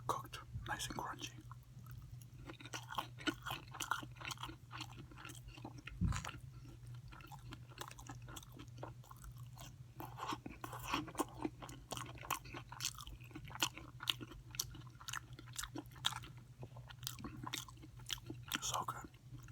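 Close, quiet crunching and chewing of overcooked, crunchy tortillas repeats in an irregular rhythm, with soft mouth noises and a low steady hum underneath.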